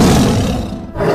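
Lion letting out a single powerful roar, loud and close, swelling then tapering off within about a second.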